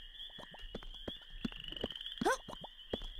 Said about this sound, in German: mit den Fröschen, die hier so rumknötern